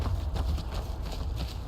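Horse hooves clip-clop steadily in Skyrim, a quick, regular run of muffled thuds over a low rumbling background, moderately close.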